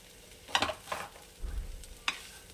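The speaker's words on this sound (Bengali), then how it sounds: "নামানোর আগে আমি আর একটু বাটার দিয়ে নাড়িয়ে নামিয়ে নেব" Mumbai-style tawa pulao with butter being stirred on a pan, a few quick scraping strokes over a soft sizzle, close and brief.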